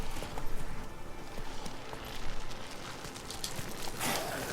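Horse hooves pound in a steady galloping rhythm in The Witcher 3: Wild Hunt, sounding moderately close under continuous game ambience.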